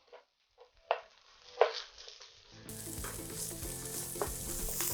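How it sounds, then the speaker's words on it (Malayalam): Coconut bits, dried and green chillies, ginger, garlic and curry leaves hit hot oil after a few quiet knocks, bursting into a loud, steady sizzle with clattering stirs through the second half. "തേങ്ങാക്കൊത്തും വറ്റലമുളകും പച്ചമുളകും ഇഞ്ചിയും വെളുത്തുള്ളി കറിവേപ്പിലയും ഇട്ട് നന്നായിട്ട് ഇളക്കി കൊടുക്കാം"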